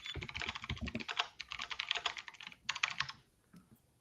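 Rapid clicking of keys on a computer keyboard in quick bursts with short pauses, fairly close and moderately quiet, no voices.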